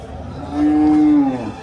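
Cattle at a village cow market in Kallakurichi, Tamil Nadu, with one cow letting out a single short moo, close and loud against a low murmur of market background.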